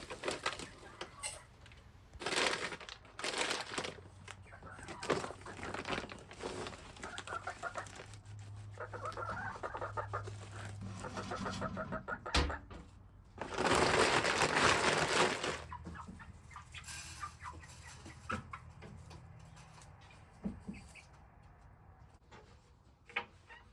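Two young hens cluck inside a small nursery coop, soft close clucks and murmurs scattered throughout, with occasional rustling and louder bursts of movement, no speech heard.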